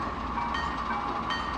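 A model railroad diesel locomotive, an RS3, runs along the track with a steady low rumble and a continuous mid-range whir, close and even throughout, with no voices.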